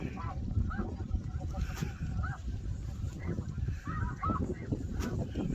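Snow geese and ducks honk and call on a Saskatchewan, Canada hunt: a dense, busy flock chorus of overlapping cries runs steadily from start to finish, with several calls standing out close by.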